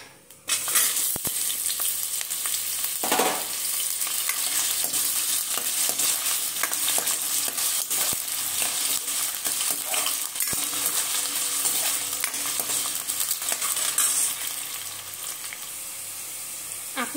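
Cabbage and potato pieces frying in oil in a pan give a steady, close sizzle for the whole stretch, with a few clinks of a utensil against the pan and no talking.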